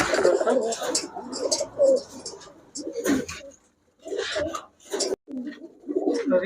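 Pakistani pigeons, among them hens, coo in soft bursts close by, with gaps of quiet between them and someone talking over and between the calls.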